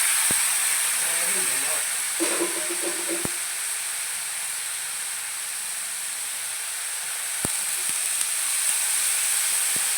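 A strong, continuous hiss and sizzle of water poured into a hot pan of cooking snake gourd, with a few sharp clicks and faint background sounds.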